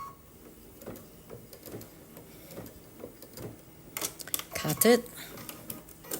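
A sewing machine stitching a quilted pincushion: a light, quick mechanical ticking runs faintly under a person talking, then grows into a louder, denser burst of clatter near the end.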